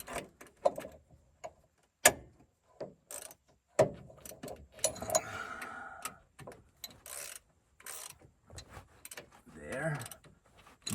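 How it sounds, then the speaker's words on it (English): Ratchet clicking while bolts are tightened on a brake assembly of a 310 SK machine during a brake seal repair, with short irregular bursts of clicks and metallic knocks, close and fairly quiet, separated by pauses. "So what I'm gonna do is I'm gonna tighten these a bit."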